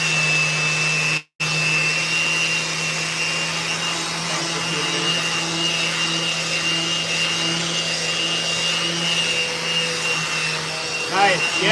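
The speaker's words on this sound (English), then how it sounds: "still sanding these two here" A steady whining drone of a power sander running continuously on skateboard decks, with one brief cutout near the start and a rattle at the end.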